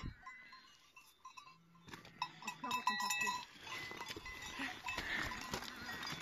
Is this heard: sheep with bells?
yes